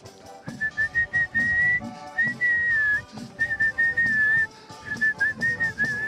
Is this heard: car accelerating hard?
no